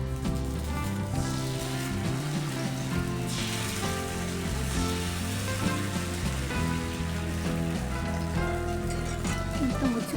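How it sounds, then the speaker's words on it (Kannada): Thin neer dosa batter sizzles on a hot, oiled griddle, a faint hiss heard under steady background music. "ಈಗ ಕಾವಲಿ ಕಾದ ನಂತರ ಎಣ್ಣೆ ಹಚ್ಚಿ ತೆಳುವಾಗಿ ನಿರ್ದೋಸೆಯನ್ನು ಈ ರೀತಿಯಾಗಿ ಹೊಯ್ಕೊಳ್ಳಿ"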